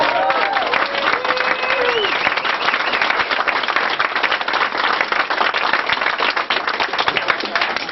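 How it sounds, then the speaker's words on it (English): Steady, dense applause from a bookstore audience greeting UFO author Jim Marrs at Brave New Books in Texas, sustained and fairly loud throughout, with faint voices mixed into the clapping. "give him a round of applause"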